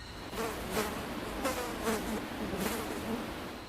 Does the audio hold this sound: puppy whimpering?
no